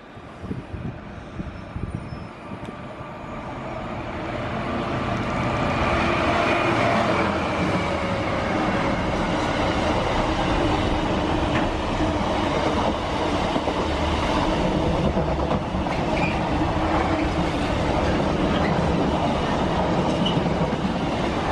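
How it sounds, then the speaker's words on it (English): A freight train passes at Watford with a rising rumble that grows into a loud, steady roar of wagons rolling by, with rhythmic clatter and occasional squealing wheels, heard alone without voices. "I think there might be a freight train coming up here in a second."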